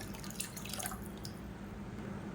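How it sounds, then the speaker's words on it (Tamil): Water pours briefly into a pot of rasam with a splashing trickle at the start, then fades into quiet background hum. "இப்போ இன்னும் கொஞ்சம் தண்ணி சேர்த்துக்கலாம்."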